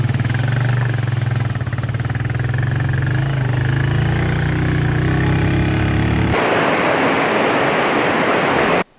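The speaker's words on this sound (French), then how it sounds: "nous allons retrouver notre moto pour la suite du trajet" A motorcycle engine, ridden on an unmaintained old German-built road near Dschang, Cameroon, runs loud and steady with a low throbbing hum, then gives way abruptly to a broad rushing noise like wind or water near the end.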